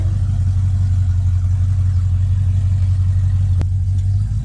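A car being prepared for Summernats idles with a deep, steady, loud engine rumble at close range, with no clear rise in revs, then a brief sharp click.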